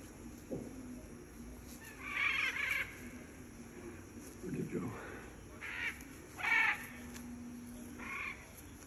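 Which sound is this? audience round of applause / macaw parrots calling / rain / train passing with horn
macaw parrots calling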